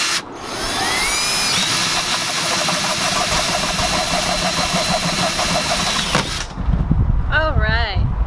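A power drill whines steadily for several seconds as it drills holes in a compost container, its pitch rising as it bites, then cuts off, followed by a brief voice.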